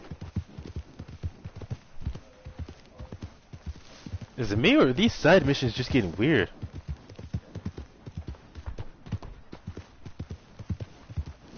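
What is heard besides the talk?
horse hooves riding in video game Red Dead Redemption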